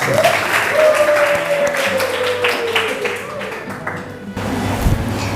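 Schoolchildren clap in a classroom, mixed with tapping and loud chatter, as a teacher's voice carries over the noise.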